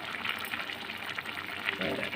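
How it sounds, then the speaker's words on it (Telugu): Boiled water poured from a lota into a pot of gongura egg pulao mix, a steady splashing gush that runs continuously at moderate level, with a voice faintly over it. "ఇప్పుడు బాయిల్ వాటర్ ఉన్నది కదండి, లోటాతో రెండు పోసేసుకున్నాం"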